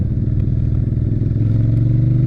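A motorcycle engine on a new bike picks up on the throttle, a steady close mid-pitched drone that rises and smooths out partway through, with no talking over it.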